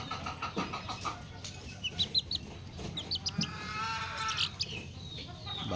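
A hen clucks in short, uneven bursts close by, with other fowl calls and a rooster-like cry mixed in over a busy farmyard background.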